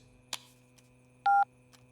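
Phone tones as a speakerphone is switched on in a Tamil film scene: a short click followed by a loud, clean electronic beep lasting about a fifth of a second, alone in a quiet room.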